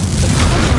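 Incendio fire spell cast in Hogwarts Legacy: a single loud, dense burst of fiery whoosh and boom filling the whole short moment, close and forceful.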